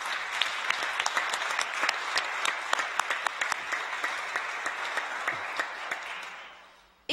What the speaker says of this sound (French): je vous encouragerai à les applaudir une nouvelle fois